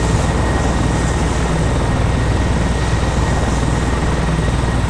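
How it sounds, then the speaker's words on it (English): Continuous whirring rotor drone of helicopters in the video game ArmA 2 (Namalsk Crisis mod), loud and steady, filling the whole stretch without any voices. "And now there are helicopters."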